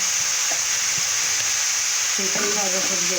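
Chicken pieces and green onions frying in a hot pan give a steady, loud hiss that fills the whole clip, with a brief voice breaking in over the sizzle near the end.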